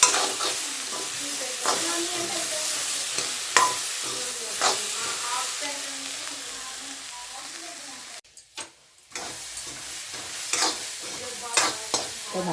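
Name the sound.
corn kernels frying and being stirred in pan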